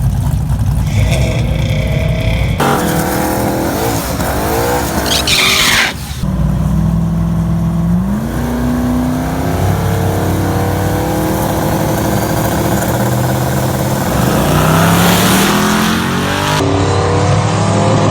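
A loud turbocharged Camaro engine roars and revs hard at a drag racing launch, gear changes pitching the whine up repeatedly as it accelerates, with tire screech and race-style intensity throughout.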